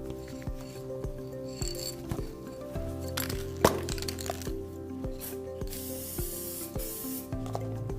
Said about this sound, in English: this material has a very nice wide fan, very soft atomization